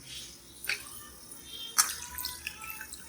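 Water drips and splashes while goat head meat is washed for a Kongu-style thalai kari masala, with a few distinct splashy hits over quiet background.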